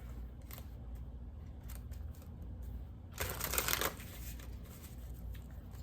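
An oracle card deck, the Spirit Allies set, being shuffled by hand: soft papery riffles and taps at a quiet level, swelling into one louder, denser burst of shuffling partway through.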